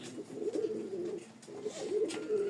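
Pigeons kept for sale, including Lotan and other fancy breeds, coo softly in a low, throaty warble, with several rolling coos overlapping in quick succession, fairly close and quiet.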